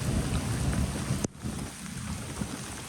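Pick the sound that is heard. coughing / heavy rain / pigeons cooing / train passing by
heavy rain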